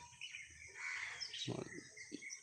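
Faint, distant sparrows and other birds chirping and twittering in the open morning air of a village, with scattered short calls over a quiet background.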